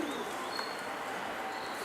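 Soft pigeon cooing repeats faintly over a steady background hiss.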